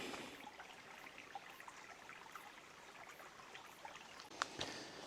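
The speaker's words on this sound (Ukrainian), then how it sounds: "Наприклад, звуки річки." Steady rushing water of a mountain river flowing beside a forest road, a constant broad wash with a couple of faint clicks near the end.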